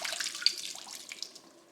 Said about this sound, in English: I'm just going to let the water drip off of them, and then I'm going to put them in my pot